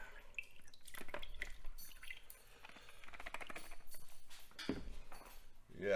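Stream water rinses gold-bearing gravel in a gold pan, with splashing, trickling and light clinks of stones, close and fairly faint, while someone talks over it.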